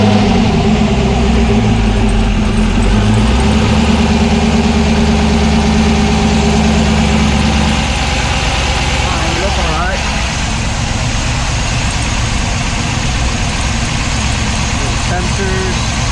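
A car engine with a newly installed temperature sending unit in the power steering pump runs at a loud, steady idle close by, with a rougher low rumble for the first half before it settles smoother.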